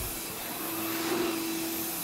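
A Vacmaster 8-gallon two-stage motorized shop vacuum runs steadily and loudly, giving a continuous broadband roar with a constant motor whine and no talking.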